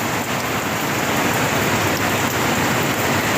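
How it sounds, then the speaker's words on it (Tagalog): Heavy rain pours down steadily, a loud dense hiss of drops on surfaces without letup, close and enveloping, with no voices. "Uulan na talaga."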